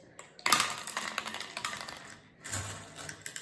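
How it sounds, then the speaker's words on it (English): Popcorn kernels poured into a plastic bottle make a quick rattling patter of small hard clicks, starting with a burst and thinning out before a second short pour, close and fairly quiet. "So I'm putting some popcorn kernels in my bottle."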